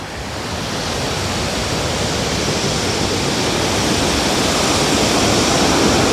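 Waterfall at Irachil Palam near Thekkady, a steady, loud roar of rushing water that runs without a break, close and unvarying, with no voices over it.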